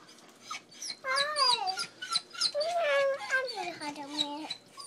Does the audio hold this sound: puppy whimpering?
yes